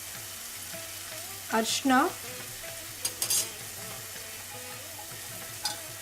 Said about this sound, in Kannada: ಮಸಾಲೆ ಪುಡಿಗಳನ್ನು ಸ್ವಲ್ಪ ಫ್ರೈ ಮಾಡ್ಕೋಬೇಕು ಕಮ್ಮಿ ಉರಿನಲ್ಲಿ